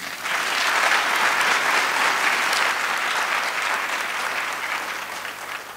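A graduation audience applauds IPP graduates with sustained, dense clapping from many people, fairly loud and even throughout, tapering a little near the end.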